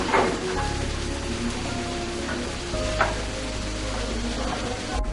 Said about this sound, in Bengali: পেঁয়াজ গোল্ডেন ব্রাউন করে ভাজা হয়ে গেছে।